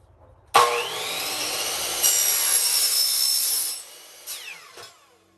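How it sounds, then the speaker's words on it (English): A cheap chop saw fitted with a non-ferrous metal cutting blade spins up with a sharp start and whines loudly through soft metal trim in a Sprinter van build, then winds down, followed by a brief second burst. "Cheap metal cutter, it's a garage sale find, chop saw."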